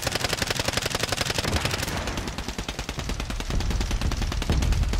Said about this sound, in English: I'm shooting at the choppy.